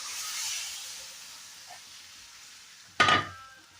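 Chilli chicken sauce sizzles and hisses steadily in a hot pan, fading slightly, then a sudden loud burst of frying erupts near the end as more goes in and is stirred.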